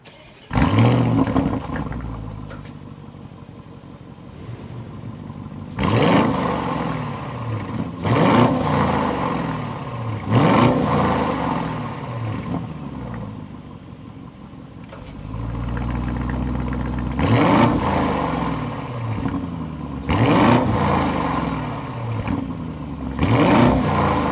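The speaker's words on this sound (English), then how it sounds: "The Audi SQ7 definitely has the throaty exhaust note" Audi SQ7 with a 4.0-litre twin-turbo V8 revving in repeated bursts, a deep throaty exhaust rising and falling between quieter idle stretches, close and loud with no talk.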